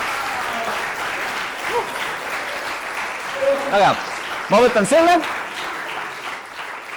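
A small group applauding steadily and fairly close, with short bursts of speech over the clapping.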